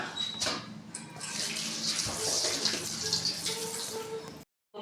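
Water runs steadily from a tap while hands wash with a new bar of soap, a continuous hissing splash close to the microphone that cuts off abruptly near the end, no talk.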